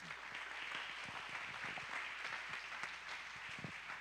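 Steady applause from a church congregation during an evening service, a soft, even wash of many hands clapping with occasional sharper claps, fairly distant and without speech.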